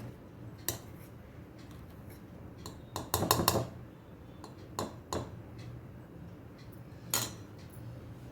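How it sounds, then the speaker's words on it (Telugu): A fork stirring dry cake ingredients of sugar, flour and baking powder in a mug: faint, sparse metallic clinks and scrapes against the mug, with one quick rattling flurry partway through, in a quiet room. "ఇది డ్రై ఇంగ్రీడియంట్స్ అన్నీ కూడా ఫోర్క్ తోటి కలుపుకుని"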